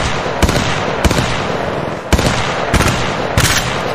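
Sharp bursts of gunfire in the mobile video game Apex Legends Mobile, five or six loud cracks and short volleys spaced about half a second to a second apart over steady background noise.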